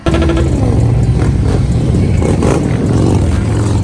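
A loud Harley motorcycle engine idles and revs continuously, a throaty rumble with rising throttle bursts, close by.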